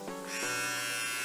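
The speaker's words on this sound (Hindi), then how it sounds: "आप देखिए ट्रिमर चालू हो गया है," A Philips Series 3000 BT31 trimmer with stainless steel blades is switched on and settles into a close, steady high-pitched electric buzz that holds evenly to the end, with no talking.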